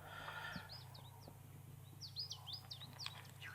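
A small songbird being ringed at a field station by the Temnik River in the Baikal reserve gives a run of short, sharp chirping calls, near and fairly faint, over a steady low hum.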